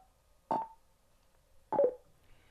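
Two short electronic beeps from a Cardo Scala Rider Freecom 4 motorcycle intercom, spaced about a second apart, each a clear tone against a quiet background.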